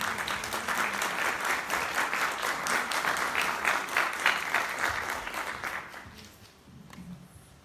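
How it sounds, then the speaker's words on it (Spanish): Audience at an education conference giving a warm round of applause to welcome a speaker, a broad steady clapping from many hands that carries for several seconds and then fades. "Recibamos con un fuerte aplauso a Ana Paulina Maya."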